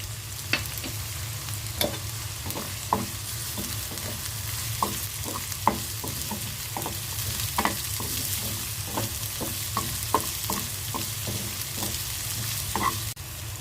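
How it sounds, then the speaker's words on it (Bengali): Chopped onion, garlic and green chili frying in mustard oil, a constant close sizzle broken by regular spatula scrapes and stirring clicks through the whole stretch, with no talking. "সরিষার তেল দিয়ে পেঁয়াজটা ভেজে নিচ্ছি। পেঁয়াজের মধ্যে দিয়ে দিচ্ছি রসুন কুচি আর কাঁচামরিচ কুচি"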